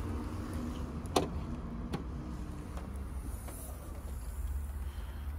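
Boot of a Mercedes-Benz CLA 35 AMG 4MATIC Shooting Brake being released and opening, a sharp latch click followed by a softer knock, then a faint low hum outdoors with no talking.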